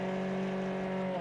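A Ford Fiesta rally car sits at the start of the 2014 ERC Jännerrallye, its engine droning loudly and steadily at high revs as it prepares to launch, with a harsh, buzzy mechanical tone.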